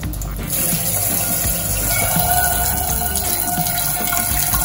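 Kitchen tap runs while a board is washed. A steady, close gush of flowing water continues throughout, with no talking.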